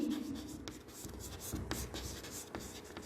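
Marker or chalk strokes on a board during an online income tax class, a steady series of scratchy writing sounds with short taps, close and moderately loud with no speech.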